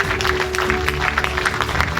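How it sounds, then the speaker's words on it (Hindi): An awards ceremony audience applauds in a steady, moderate wash of clapping, with a faint tonal hum beneath it. "आप जोरदार तालियां बजाएं।"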